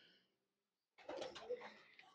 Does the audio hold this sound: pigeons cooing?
yes